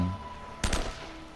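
A single short burst of gunfire aimed at a chain in Uncharted: Drake's Fortune, loud and abrupt against quiet game background, lasting a fraction of a second.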